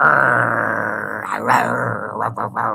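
A man growls in a low, rough, sustained voice imitating an aggressive dog, a continuous snarling rumble with a few breathy bursts near the end, close and loud.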